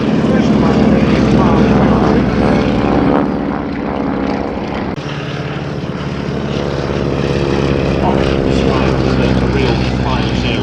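A North American Harvard's radial engine and propeller roar at an airshow, a loud sustained droning growl that dips briefly midway and then swells again.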